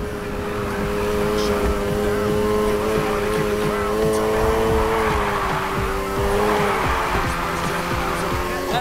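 A car drifting in the Need for Speed Heat racing game: a loud, sustained engine roar holds steady while tires squeal through the slide, continuous and up close.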